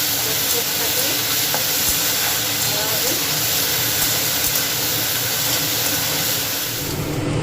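Bitter gourd frying until reddish: a dense, steady sizzle and hiss of oil throughout, with faint stirring scrapes, close and continuous.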